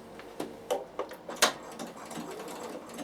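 A Bernina sewing machine runs in short, uneven bursts while stitching a dart, the needle thumping in several quick clicks before settling into a quieter whir.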